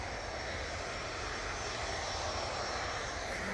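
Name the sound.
VistaJet Bombardier Challenger 300 jet aircraft departing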